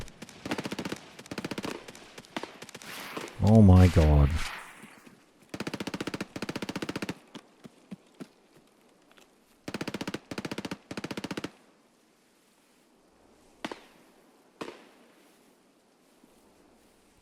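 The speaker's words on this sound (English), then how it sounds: "There's gunfire happening at the wazoo." Machine-gun fire in the modded shooter Escape from Tarkov comes in several long automatic bursts, loud and sustained, separated by quieter gaps with scattered single shots, and a voice briefly exclaims.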